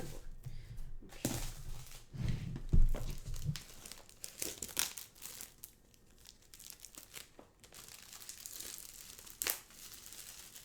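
Plastic wrap crinkling and tearing as a Half Truth board game box is unboxed, a run of close, loud crackles and rips in irregular bursts, busiest in the first few seconds, then lighter intermittent rustles.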